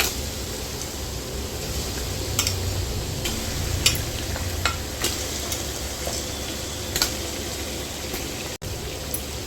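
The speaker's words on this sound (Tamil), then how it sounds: "இஞ்சி பூண்டு நல்லா வதங்கிடுச்சுங்க. மட்டனை போட்டுக்கலாம்." Mutton frying in a pan with sautéed ginger and garlic for mutton biryani, a constant sizzling hiss with scattered light taps and stirring clicks throughout.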